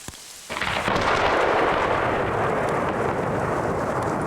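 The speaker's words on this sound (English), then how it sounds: "I hope you can hear that thunder." Deep, continuous rumbling thunder rolls in after a brief quiet start and keeps reverberating loudly among surrounding cliffs in Oman's Western Hajar mountains, layered over a steady wash of heavy rain.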